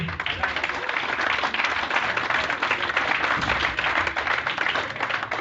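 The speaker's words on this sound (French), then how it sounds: "Merci à tous les rabbinim que l'on peut applaudir à nouveau" An audience at a siyum celebration claps for the rabbis, a thick, continuous wash of many hands applauding together, steady and fairly loud for several seconds, with a few voices mixed in beneath.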